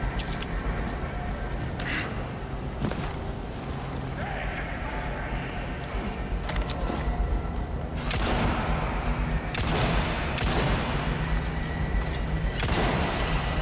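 Gunfire in Resident Evil 4 Remake, a scattering of sharp, separate shots spaced a second or two apart against a busy background of game ambience and occasional talk.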